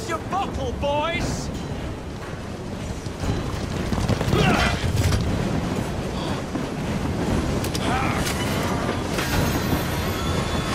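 A steam-era train runs in Assassin's Creed Syndicate, set in Victorian London, producing a continuous loud rumble and rattle of wheels with occasional squeals, mixed with voices and game action sounds throughout.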